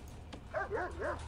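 A dog in the prison-building video game Prison Architect gives a few short, faint yips and whining barks in quick succession, heard alone over a low background hum.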